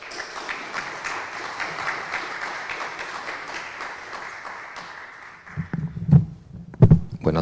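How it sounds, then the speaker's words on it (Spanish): An audience at a Colegio de Ingenieros del Perú event gives steady applause welcoming the national director secretary, a dense clapping that carries on for about five seconds, then thins out as a speaker starts to talk. "a quien le brindamos fuertes aplausos"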